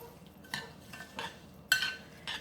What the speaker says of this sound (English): Get all the butter stirred in with the tomatoes and chilies and onions.